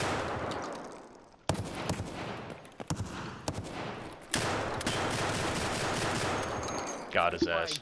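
Shotgun blasts in a raiding video game, several sharp bursts in quick succession with irregular spacing, fairly close and loud, with brief voice bits between shots.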